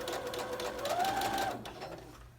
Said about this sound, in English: lower your presser foot back down and keep sewing at 3/8 of an inch